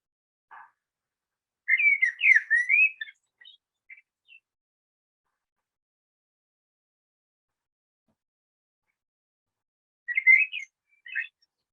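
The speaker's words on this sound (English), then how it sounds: "So that's the blackbird call. Now you'll notice that none of those notes were repeated." Common blackbird song: a varied, flutey whistled phrase of unrepeated notes, a short opening call then a fuller burst, silence, and a later brief phrase, clear and fairly close against a quiet background.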